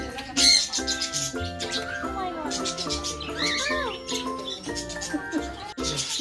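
Many birds chirp and call inside an aviary at Sarkar Farm House in Narayanpur, Agartala, Tripura. Close, overlapping tweets and whistles come in quick bursts, with a louder squawk near the start and some background murmur.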